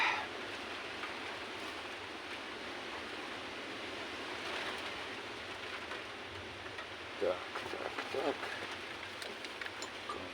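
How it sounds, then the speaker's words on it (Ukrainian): Steady rain with a little light hail falls outdoors as a continuous broad hiss, with a few brief sharper taps and a short spoken phrase near the end. "У нас вже дощик падає, закидає трошки градом."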